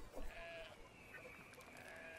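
Sheep bleat faintly amid a thick wash of game ambience and music in Brothers: A Tale of Two Sons, the bleats blended low in the mix rather than standing out.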